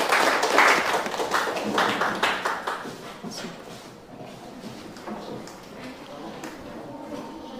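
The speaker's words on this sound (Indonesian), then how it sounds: "tepuk tangan untuk kelompok 3" A classroom full of students gives group 3 a round of applause: dense, close hand clapping that is loud at first, then thins and fades into scattered claps and murmuring.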